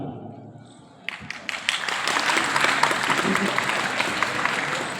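An audience applauds at a Gujarati poetry recital marking International Mother Language Day. After a quiet second, dense clapping swells and holds at a steady, fairly loud level to the end.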